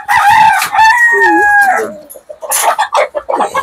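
On a poultry farm, a rooster crows loudly and close by while the farm hens cluck in short bursts around it.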